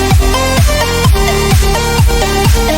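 An electro pop drop with a punchy kick thumping roughly twice a second while sidechained synths duck and swell around each beat, loud and dense, pulsing steadily with no voices.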